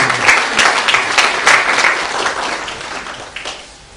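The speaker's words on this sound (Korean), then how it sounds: "우리 엄마 아빠가 인사할 때 다시 한번 박수로 응해주시면 감사하겠습니다." A church congregation at a Sunday service applauds, a burst of brisk, close clapping that holds for a few seconds and then gradually tapers off.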